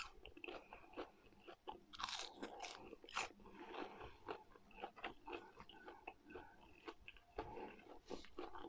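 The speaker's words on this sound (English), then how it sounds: "That crunch." Close, crisp crunching bites and chewing of fried Spam with sweet potatoes and mayonnaise during a mukbang meal, irregular bursts of loud crunch between softer mouth sounds, no talking.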